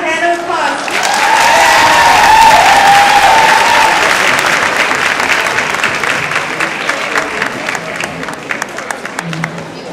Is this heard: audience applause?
yes